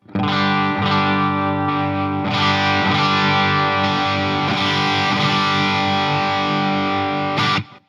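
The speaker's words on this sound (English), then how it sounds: "same settings as before, but now it's on the distortion" Heavily distorted electric guitar through a Line 6 Helix distortion model rings out in sustained chords, thick and saturated, with a few restrikes and an abrupt stop near the end.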